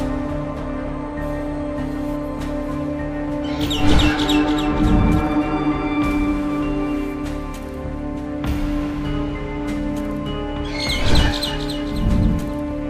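Chirping birds from the horror game Garten of BanBan sound in two short, bright bursts a few seconds apart, over a steady droning ambient hum, with no voices.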